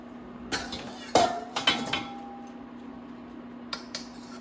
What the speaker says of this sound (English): time for me to put the bean sprout into the pot.